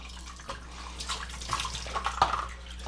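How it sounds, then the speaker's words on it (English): Distilled water is poured over the parts of a Levoit LV600HH humidifier, giving a soft, uneven splashing and trickling that grows a little louder toward the end. "I'm gonna pour the water over these devices here"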